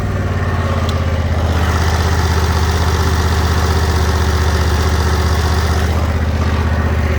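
A 48-inch Cub Cadet Z-Force zero-turn riding lawn mower engine idles steadily at close range, a loud, even low-pitched rumble that holds constant from start to finish with no talking.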